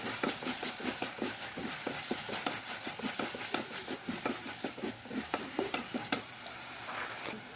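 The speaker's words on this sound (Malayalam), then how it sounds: "നന്നായിട്ട് മിക്സ് ചെയ്ത് കൊടുക്കുക." Chopped tomatoes being stirred into a Kerala-style nadan chicken curry masala in a hot pan, a steady run of spoon scrapes and knocks over a soft continuous sizzle, close and with no voices.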